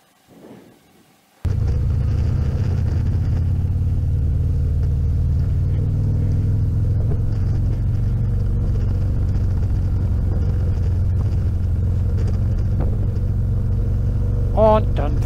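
After a quiet start, a motorcycle engine fires into a steady, loud, deep rumble as the bike turns and rides off, holding close and constant throughout with occasional faint extra sounds near the end.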